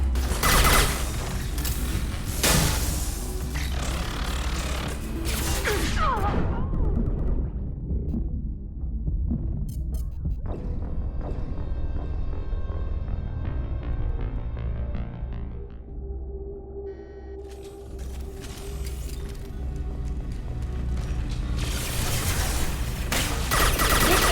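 Heavy weapons fire in the sci-fi shooter Mass Effect 2, loud sustained blasts and rumbling barrages at the start and end framing a quieter stretch of droning hum and mechanical tones.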